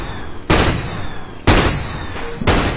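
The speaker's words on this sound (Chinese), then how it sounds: "你有没有觉得高出火炮声音听着很带感？" Three sharp, booming cannon shots from high ground in the video game Dota ring out about a second apart, each a loud, sudden blast with a short decaying tail.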